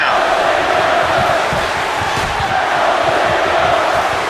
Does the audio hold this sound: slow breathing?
no